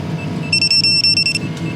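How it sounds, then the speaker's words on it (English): Short electronic beeps from an FPV drone as its GPS locks onto satellites at Swing Arm City, Utah, a quick run of bright repeated tones sounding close over a steady low background hum, with no talking. "that beep you just heard was GPS locking in"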